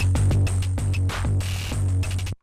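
A synth pattern runs through the Round Fuzz distortion circuit of an Elektron Analog Heat set fully wet, giving a loud, buzzy, saturated rhythmic pulse that repeats steadily before cutting abruptly to silence at the end.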